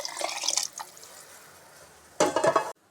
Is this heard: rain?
no